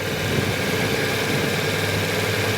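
Motorcycle engine held at steady throttle on a riding course, a continuous even drone with a constant low hum and no rises or dips, close and alone without voices.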